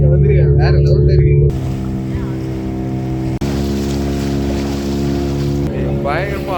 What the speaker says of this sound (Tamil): பயங்கரமாக ஆடுது போட்டு.